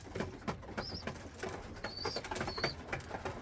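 Young pigeons in a fly loft give soft, intermittent coos and chirps close by, with a few brief wing flutters and light rustling mixed in, no talking.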